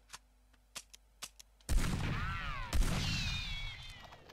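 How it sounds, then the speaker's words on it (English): A shotgun fires in Red Dead Revolver, a booming blast followed by a second one about a second later, each with ringing tails, after a few faint clicks. "So this is a shotgun."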